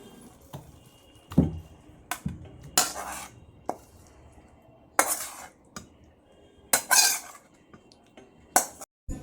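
A spoon scrapes and clinks against a pan while two eggs are cooked down into a spiced egg kosha in a home kitchen, giving sharp metallic clatters in irregular bursts between quieter stirring, with no talking.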